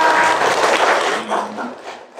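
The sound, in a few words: applause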